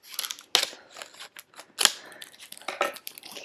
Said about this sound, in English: I'm going to carefully snip it open here so we can take a look at it.